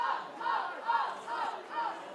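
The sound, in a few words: rugby league crowd yelling for a penalty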